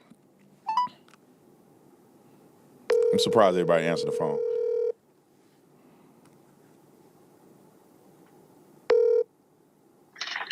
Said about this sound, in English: last person I'm going to call is my daddy.